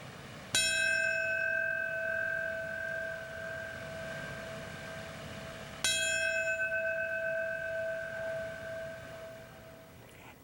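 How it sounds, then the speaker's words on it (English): Bells toll at a 9/11 memorial ceremony in Lower Manhattan, two distinct strikes about five seconds apart, each ringing out with a long sustained hum that slowly fades, with no talk. "Tolling bells and moments of silence marking the times the planes hit the 2 towers and when each fell."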